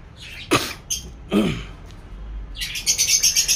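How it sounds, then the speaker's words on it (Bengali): Lovebird chicks make a couple of short scratchy calls, then a rapid run of thin high chirps, close by in a quiet room. "লাভবার্ড পাখির যে যটা ডিম পেরেছিল, 5টা ডিমের বাচ্চা উঠেছে"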